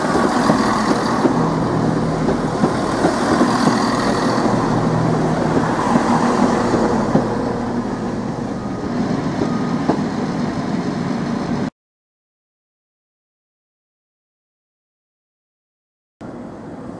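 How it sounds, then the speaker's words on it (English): A Turbostar diesel multiple unit from Cambridge arrives at Norwich Station with a loud, steady rumble and rail clatter that eases slightly, then cuts to silence before the sound briefly returns. "we've got a turbostar unit now, arriving to Norwich Station from Cambridge"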